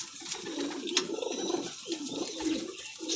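Blue highflyer pigeons coo softly in a low, rolling murmur, with a few sharper chirps and flutters over quiet background noise.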